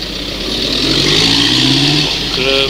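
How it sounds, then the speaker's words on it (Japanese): Car traffic echoes through a city street at night: a steady, loud engine drone with a vehicle passing close and its pitch rising, then another engine revving near the end. "車の音が響いております。"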